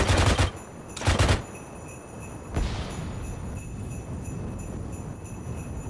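Two loud bursts of automatic gunfire in the military shooter game Arma 3, each about half a second, followed by a single sharper shot, then a steady low rumble with no talk.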